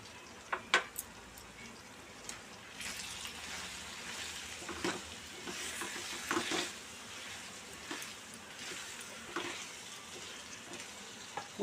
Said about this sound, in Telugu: ఇది బాగా దగ్గర పడేదాకా ఫ్రై చేయాలి.